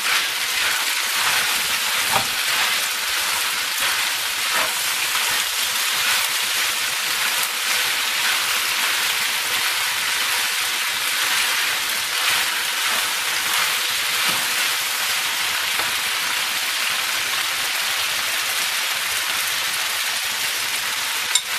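Chicken macaroni with chili sauce stirred in a pan, giving a steady broadband sizzling hiss that runs continuously at even loudness throughout, with faint scraping underneath and no talking.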